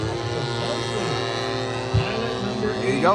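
A Seagull P-47 Razorback RC warbird with an EME 70 twin engine roars past at full throttle, a steady loud buzzing drone with a rising pitch sweep near the end, while someone talks briefly over it.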